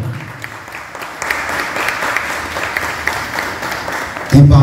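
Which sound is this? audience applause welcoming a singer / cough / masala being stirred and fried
audience applause welcoming a singer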